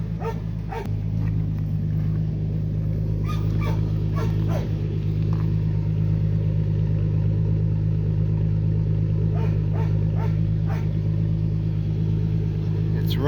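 A muffler-deleted 2003 Ford Ranger with the 4.0L engine, still fitted with its catalytic converters, out on a drive. It gives a loud, steady low exhaust rumble that runs the whole time, with occasional brief higher sounds over it.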